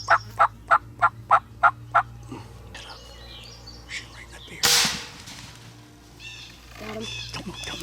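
A wild turkey gobbles in a rapid burst of seven loud, evenly spaced calls, followed by scattered rustling, a sharp airgun-like crack and softer intermittent sounds outdoors.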